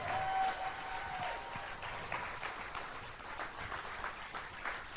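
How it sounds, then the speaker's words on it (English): Faint, distant applause from an audience at a farewell event as two people make their way to a stage, an even wash of clapping that continues without a break. "would you just clap incessantly loud for them?"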